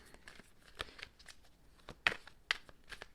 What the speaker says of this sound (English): let me know if you don't like watching people shuffle